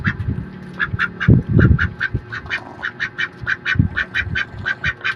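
A pet duck quacks in quick, repeated nasal bursts at close range, loud and steady throughout, with a few deeper honking calls mixed in.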